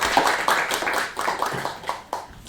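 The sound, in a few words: audience applause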